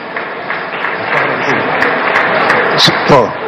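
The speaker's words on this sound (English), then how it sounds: "With a round of applause, please." Applause for the Ashanti Regional Chief Imam at a public launch event, broad continuous clapping from a crowd with voices mixed in beneath it.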